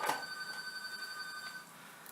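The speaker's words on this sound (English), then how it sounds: "Sorry for the phone call." Telephone rings faintly in a workshop during candle rack fusing work, a thin steady electronic tone lasting over a second against quiet room noise.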